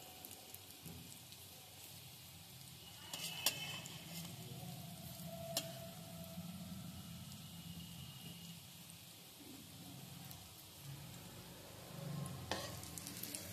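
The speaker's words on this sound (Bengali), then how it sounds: "এগুলো ভাজা হয়ে গেছে, এবার নামিয়ে নিচ্ছি।" Pea fritters frying in hot oil give a steady soft sizzle throughout, with occasional brief clinks or ticks standing out, and no talking over it.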